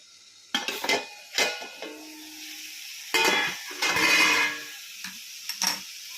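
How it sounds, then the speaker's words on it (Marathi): A lid lifted off a pot of sautéing onion, with a few sharp metallic clanks and clatters, close and distinct, separated by quieter stretches of soft sizzling. "तर आपण आता ह्यावरचं झाकण काढून घेणार आहोत."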